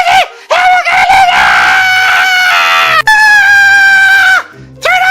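An Elmo toy spinning and letting out loud, sustained, high-pitched electronic screams, broken by a couple of short gaps, very close and dominant throughout.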